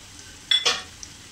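Mixed spice masala being sautéed in a pan over a low flame while cooking paneer masala, heard as a brief soft sizzle with two short bursts of stirring, close and quiet, with no talking.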